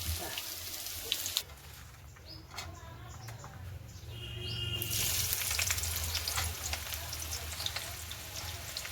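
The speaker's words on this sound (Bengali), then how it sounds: "মাংস রান্না করছি আজকে" Meat fries in a pan, a steady sizzle that swells louder in the second half, with a few faint knocks early on and no one talking.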